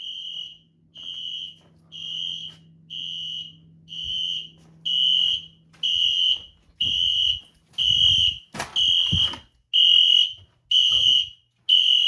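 An ES-50X fire alarm sounds during a system test, giving a loud, steady series of regular electronic tone bursts about once per second, with low hum underneath and some clatter partway through.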